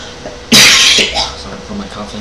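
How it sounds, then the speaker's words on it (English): A single loud cough bursts out close to the microphone, followed by a softer catch of breath in a quiet room. "Sorry for my coughing."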